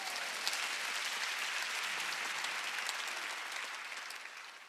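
Steady, dense clapping from an audience keeps up at an even level for several seconds, with no voices above it, then cuts off abruptly.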